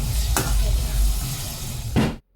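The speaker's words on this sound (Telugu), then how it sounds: "మనం మ్యారినేట్ చేసుకున్న ఈ చికెన్ మొత్తం కూడా ఆయిల్లో వేసి మంచిగా ఫ్రై చేసుకోవాలి" Marinated chicken fries in hot oil with a loud, steady sizzle, punctuated by two sharp stirring scrapes before cutting off abruptly.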